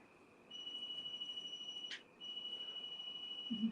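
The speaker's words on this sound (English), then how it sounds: "the REM pod in the house has been going off like an alarm clock" A REM pod paranormal detector alarm sounds inside an empty house, a steady high electronic tone that cuts out briefly near the middle and then resumes, faint and distant over low background hiss.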